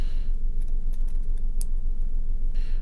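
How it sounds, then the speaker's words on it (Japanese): Scissors snipping open a used fuel pump strainer from a Suzuki MR Wagon (MG33S) kei car with about 150,000 km of use, a series of close, sharp clicks and crisp cuts over a low background rumble. "外しましたストレーナー、これハサミで切って中を見ていきます。"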